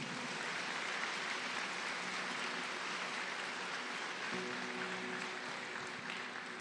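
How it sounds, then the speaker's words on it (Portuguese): Church congregation applauding at a Sunday worship service, a steady dense wash of many hands clapping that fills the room evenly for the whole stretch, with no voices standing out. "Você pode aplaudir o Senhor."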